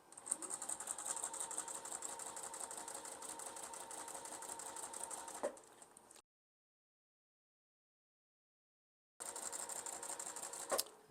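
A sewing machine stitching a quilt seam for a Rail Fence block, its steady rapid mechanical whir running for about six seconds, then silence, then starting again briefly, close and without talk.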